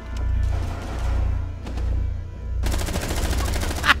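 Rapid gunfire in the tactical shooter Rainbow Six Siege, a house map in a hostage team deathmatch: bursts of sharp shots crackle over low rumble, ending in a dense, fast volley of close automatic fire.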